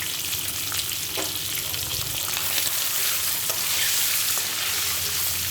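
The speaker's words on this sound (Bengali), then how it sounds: "ডিমটা একটু ভাজা ভাজা হোক" Oil sizzles and crackles steadily in a pan as duck eggs fry, with occasional scraping stirs and no talking.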